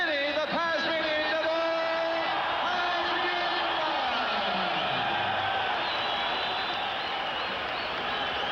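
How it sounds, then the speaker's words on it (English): A boxing crowd roars and cheers in a dense, sustained wave after Vinny Pazienza's tenth-round TKO win over Roberto Elizondo, with whoops and yells rising out of the din. The roar stays loud for the whole stretch. "So the crowd reacting as Vinny Pazienza"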